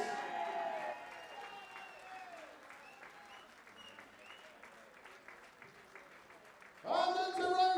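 Darts crowd applauding a player at the WDF 2024 World Championship at Lakeside, steady clapping throughout with a public-address announcer's voice over it, then a louder burst of music-like sound near the end.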